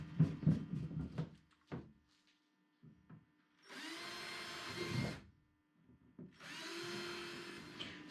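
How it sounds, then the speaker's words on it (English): Two bursts of a power drill whir for a second or two each, close by, drilling fastener holes on a car-top boat, separated by quiet handling clatter and knocks. "keep it in place while I drill the other ones"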